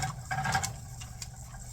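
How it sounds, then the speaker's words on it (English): Steady bubbling and hissing of a pot of water at a rolling boil, close by, with no voices. "would you quit boiling over there? You're making too much noise."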